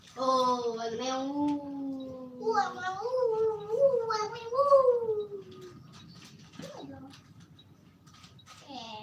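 A cat meows in a long series of drawn-out, rising and falling cries, close and fairly loud, followed by a shorter, fainter call near the end.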